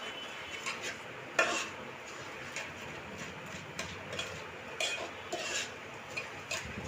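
Chicken marinade for Hyderabadi chicken biryani being mixed in a bowl, a series of soft repeated clinks and scrapes of a spoon against the bowl in an irregular rhythm, fairly quiet, with no talking.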